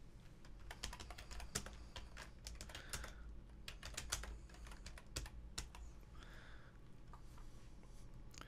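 Rapid, uneven clatter of typing on a computer keyboard, with individual key clicks and occasional heavier strokes, close-up and continuous for several seconds with no talking.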